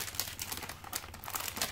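Paper packaging on a mail parcel crinkles and rustles close up in quick, irregular bursts as it is torn open, with no voices.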